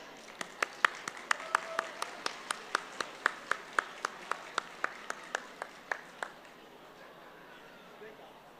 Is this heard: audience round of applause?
yes